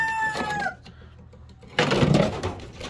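Chickens and a rooster in a pen give a short crow-like call, then a pause before a burst of clucking, squawking and flapping close by.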